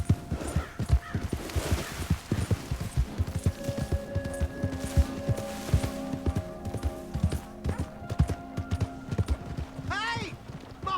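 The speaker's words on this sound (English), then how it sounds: "Hey! My horse!" Horse hooves clop in an uneven rhythm in Red Dead Redemption 2, close and fairly quiet, mixed with a horse's snorting and other in-game sounds, with voices speaking over parts of it.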